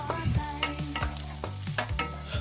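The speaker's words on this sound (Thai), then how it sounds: "แล้วเราก็ผัด เครื่อง ทั้งหมดให้มีกลิ่นหอมขึ้นมาเลยนะครับ" Herbs for tom yum shrimp fried rice being stir-fried in a hot pan, with rhythmic scraping strokes of a spatula over a steady close sizzle, repeated about every half second with no talk.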